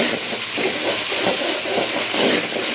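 Water poured into a hot pan of fried potatoes and climbing perch for a fish curry, a loud, continuous broadband sizzle and hiss that holds steady without a break, close by.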